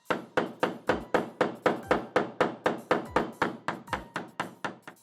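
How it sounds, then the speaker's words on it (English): A push rod is hammered against a split pin on a brake handle of a Columbia Matrix drywall tool: about twenty sharp, evenly spaced thunks, close and steady with no talking. "We're going to take our push rod and we're going to hammer the split pin through."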